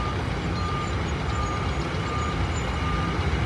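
Asphalt truck backing up at night on an I-485 construction site in Charlotte: a continuous loud diesel engine rumble fills the clip, with a faint steady tonal reverse beep riding above it.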